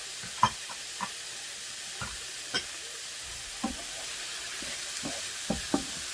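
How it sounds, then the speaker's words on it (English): Half a finely chopped white onion sizzles in a pan, a quiet steady frying hiss broken by occasional sharp taps and scrapes of stirring, close and without speech. "Next, we are going to add a half of a chopped white onion, also chopped finely."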